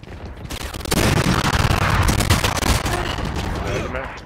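A Spectre submachine gun in Valorant fires a long, loud continuous spray of rapid shots, starting after a brief quiet moment and holding steady to the end.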